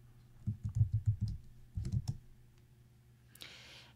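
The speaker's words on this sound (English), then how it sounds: "I'm going to type in my password" Quick run of key presses on a computer keyboard while entering a password, a burst of about eight clicks, a pause, then a few more, close and quiet.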